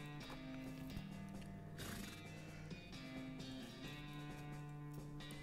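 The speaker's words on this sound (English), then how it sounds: "I'll just stay out here and watch the horses." Horses in the video game West of Loathing, clip-clop hoof sounds and mechanical clatter over a steady sustained musical tone, no talk.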